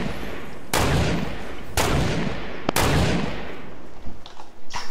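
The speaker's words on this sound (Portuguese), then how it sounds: "Tô tomando tiro, mano." Gunfire in the video game Fortnite during a match, three loud booming shots with long decaying tails, followed by softer scattered clicks and rustles.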